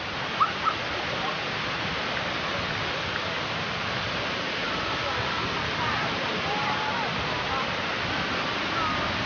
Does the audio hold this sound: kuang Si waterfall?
yes